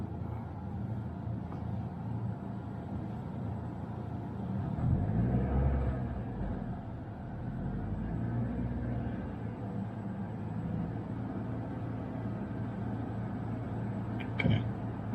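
A manual car idles with a low steady rumble, then the engine revs rise and swell briefly before settling back, heard from inside the cabin during a driving lesson.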